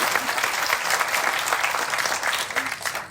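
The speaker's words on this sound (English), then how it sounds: "a big round of applause for Daniel Wynn" Audience at a community awards ceremony applauding for Daniel Wynn, a dense, sustained burst of clapping filling the room for a few seconds.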